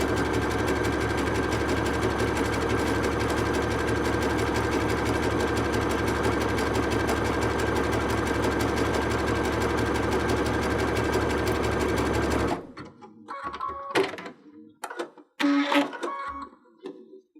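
A sewing machine zigzag stitching welt cord, loud and close, a fast steady mechanical whir for about twelve seconds that stops abruptly, followed by a few handling clicks and rustles.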